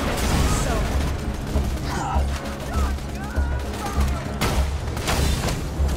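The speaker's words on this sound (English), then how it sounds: "just shooting at these guys" Gunfire in the shooter game Borderlands 2, a dense, continuous barrage of shots and blasts with someone talking over it.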